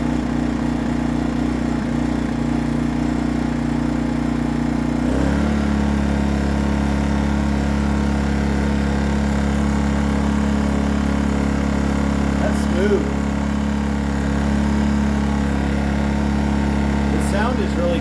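A lightweight 36 lb dual-fuel 1800 W portable generator runs steadily at a loud, even idle on its first start, shifting pitch slightly partway through, with faint talk underneath.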